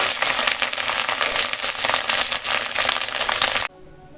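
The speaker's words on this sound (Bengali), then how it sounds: "এখন মাছের ডিম ভাজবি ভাজা খাবে বলে এখন ডিমটা ভালো করে ভেজে নেব" Fish roe fries in a pan with a loud, steady, close sizzle and crackle that runs for several seconds and then drops off abruptly to a quiet hiss.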